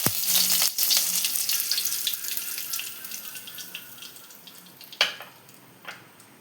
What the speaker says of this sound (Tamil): எண்ணெய் காஞ்சதும் கடுகு போடணும். கடுகு போட்டதும் கருவேப்பிலை போடணும்.